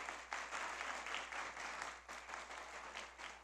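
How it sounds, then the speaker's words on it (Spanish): Audience applause at an environmental defence forum held by non-governmental organisations: dense, fairly faint clapping from a room of people, steady for a few seconds with no voices. "Quisiera pedir un aplauso."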